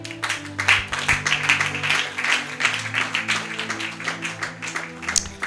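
A church congregation claps and calls out in praise of the Lord, a steady mid-distance wash of applause and voices lasting several seconds.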